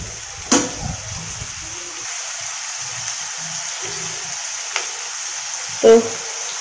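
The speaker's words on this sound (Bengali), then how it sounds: "তো এবার পেঁয়াজটা একটু ভাজা হোক।" Onions fry in a pan for a chicken dish, giving a soft, steady sizzle with a few sharp clinks and scrapes of stirring.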